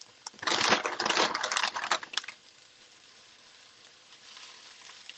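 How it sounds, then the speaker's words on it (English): Fresh spinach drops into a hot frying pan with a loud crackling sizzle that lasts about two seconds, then settles into a faint, steady hiss as the leaves wilt. "I'm going to add in my spinach, and we're just going to wilt the spinach"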